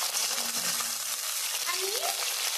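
Capsicum fries in a pan over high heat with a dense, even sizzle that holds steady throughout, close and loud, with a faint voice briefly underneath.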